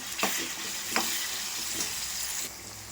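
Onion and garlic fry in hot mustard oil with tempered mustard seeds and curry leaves, giving a continuous close sizzle broken by a few scraping stirs.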